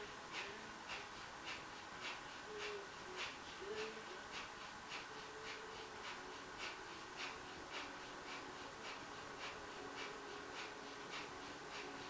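Breath of fire yoga breathing sets up a steady train of quick, forceful breaths through the nose, about two per second, faint and even against a constant background hiss.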